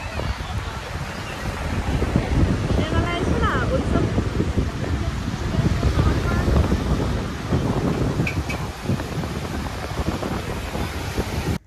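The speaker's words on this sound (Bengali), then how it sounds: "তো ঢেউগুলো এখানে খুবই সুন্দর, সত্যি অসাধারণ" Ocean surf at RK Beach in Vizag at night, a continuous roar of breaking waves buffeted by wind noise on the microphone, with people talking over it.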